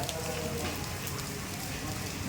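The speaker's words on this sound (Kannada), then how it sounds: "ಒಂದು ಹೊಸ ಡಿ ಸಿ ಕಚೇರಿಯ ಮುಂಭಾಗದಲ್ಲಿ ಒಳ್ಳೆಯ ಮಳೆ ನೋಡಿ" Heavy rain pours outside the district commissioner's office in Ballari, a steady, dense hiss of falling water with no break across the short stretch.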